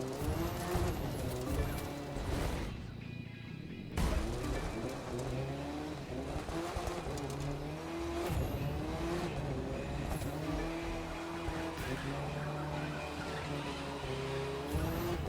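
A Mitsubishi Lancer drifting in The Crew 2 racing game roars with a revving engine whose pitch rises and falls, while tires squeal continuously through long slides, loud and up close with no voices.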